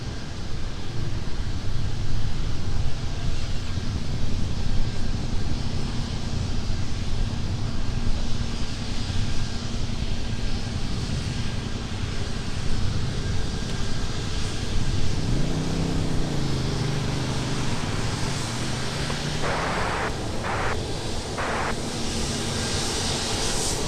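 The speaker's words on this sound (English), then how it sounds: "Going to give us our first Mike taxi of the day with the 737 MAX 8 from Austin, Texas." A Boeing 737 MAX 8 taxies at Minneapolis airport, giving a continuous low engine rumble and whine at moderate distance. Brief beeping tones sound near the end.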